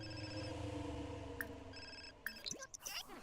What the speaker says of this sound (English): My phone's ringing, I don't care.